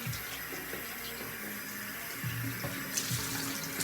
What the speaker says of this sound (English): I'm going to rinse it off with lukewarm water.